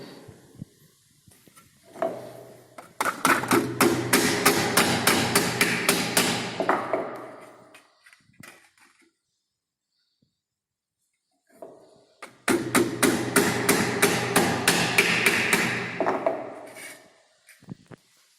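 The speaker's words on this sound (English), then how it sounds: "With the help of mallet, we'll apply the load." A mallet strikes a sheet metal tray clamped in a bench vise at an engineering workshop, two runs of rapid, evenly spaced blows, each lasting about four seconds and separated by a silent pause, with a few lighter taps before and after.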